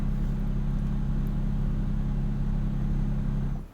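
A test-drive car from 2021 slows down on an icy highway, its steady low engine rumble and road drone continuous and close, fading slightly at the very end.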